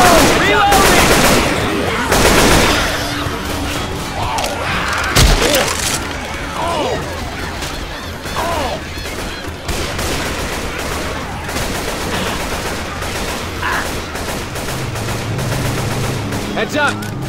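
Rapid bursts of gunfire from Left 4 Dead 2 fill the scene, with loud overlapping shots and booms strongest in the first few seconds, then continuing as dense, steady firing amid game noise.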